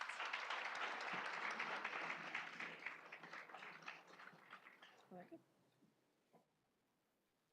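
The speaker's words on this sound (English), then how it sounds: "a round of applause for our panelists." Sustained applause from a crowd at a new student orientation panel, dense and steady for several seconds, then thinning out into scattered claps and fading to near silence.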